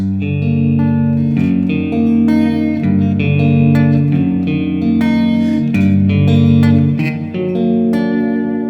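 Distorted electric guitar plays a sustained chord that shifts into another chord, ringing with effects and reverb, loud and alone with no talk.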